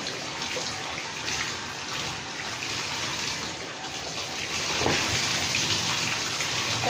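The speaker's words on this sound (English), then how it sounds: "gonna rinse it off" Running water pours steadily while a dog is rinsed off during a bath at home, a continuous close gush like a tap or bathtub filling that swells slightly louder toward the end.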